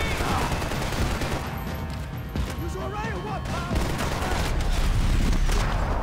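Sustained gunfire fills the scene in Max Payne 3, dense overlapping shots and bursts over several seconds, with a voice talking and exclaiming over the shooting.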